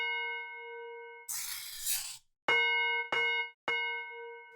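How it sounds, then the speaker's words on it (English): A sustained vibraphone-like synth tone, a burst of noisy shimmer, then three struck metallic chimes in a row, each ringing and decaying like a doorbell. "There you have a sort of a vibraphone kind of sound with maybe a doorbell."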